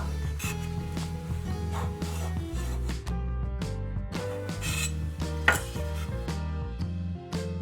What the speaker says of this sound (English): First of all, we're going to slice the bread into small pieces like this.